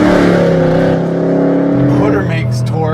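A Chevrolet Camaro with an LS7 V8 revs loudly up close, a deep harmonic engine note that climbs and falls over about three seconds while someone talks over it.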